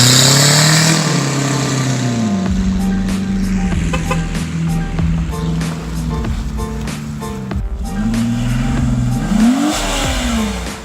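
An old Honda Civic race car revs hard and drives, the engine rising and falling in loud sweeping pitches with throttle blips and rough mechanical rattle throughout, nearby and continuous.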